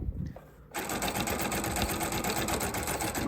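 Sewing machine stitching around the top of a fabric Easter basket, a steady, close, rapid whirring that starts abruptly after a short quiet pause and runs continuously to the end.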